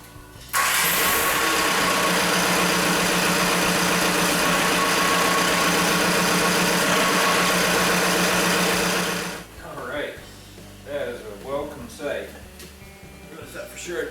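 A vehicle engine with a newly installed clutch switch and no gear oil in the transmission fires up and runs loud and steady up close for about nine seconds, then shuts off, followed by someone talking.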